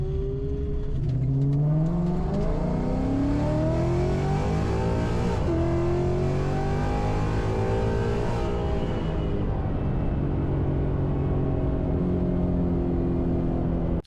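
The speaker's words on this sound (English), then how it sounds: "Back in the garage and just took the car out for the drive." A 1991 Ford Mustang Foxbody drives and accelerates, its engine note climbing and dropping through repeated revs, loud and close, likely heard from inside the cabin, with no voices.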